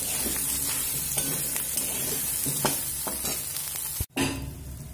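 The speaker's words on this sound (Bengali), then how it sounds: "এবার আমি সয়াবিনগুলো ভেজে নেব।" Soybean chunks with turmeric frying in oil, a continuous hiss and sizzle with intermittent stirring scrapes, and a brief break near the end.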